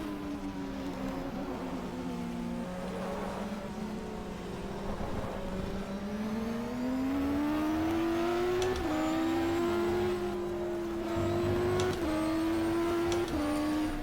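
A Ferrari GT race car engine in the GTR2 racing game drones and climbs steadily through the gears, the pitch rising and dropping with each shift, loud and continuous throughout with no voices.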